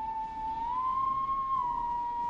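A single sustained whistled tone in the video game Killer Frequency, steady pitch that rises slightly and falls back, clear and moderately loud over a quiet background.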